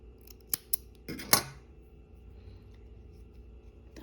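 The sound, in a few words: scissors cutting crochet yarn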